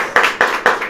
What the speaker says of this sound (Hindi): अब आप समझ लीजिए, ताली बजनी चाहिए।